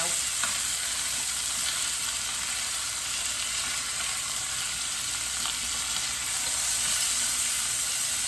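Chicken pieces fry in a pan with a dense, continuous loud sizzle, steady throughout with only faint clicks of the pieces being turned.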